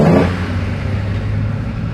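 A vintage car pulls away up a hill climb course, its mid-pitched engine droning steadily at close range after a brief louder burst at the start.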